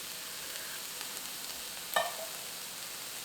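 Tomato sauce poured into a pan of frying minced garlic, a soft steady sizzle with a brief louder splash of hissing partway through.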